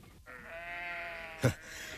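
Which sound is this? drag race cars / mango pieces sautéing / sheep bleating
sheep bleating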